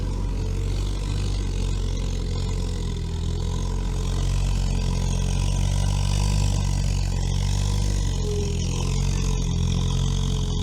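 A Veter all-terrain vehicle climbs a snowy hill without differential locks, its engine droning loud and steady at close range with a slight rise and fall in pitch; no speech.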